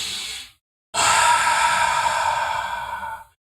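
A long, steady deep exhalation follows a brief first breath and a short pause, breathy and close, the kind of slow calming breath taken before public speaking.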